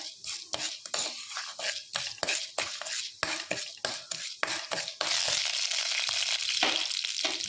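Urad dal frying in coconut oil in a pan, stirred with a spoon: repeated scraping and clinking strokes over a steady sizzle that swells louder and continuous toward the end, close and without talk.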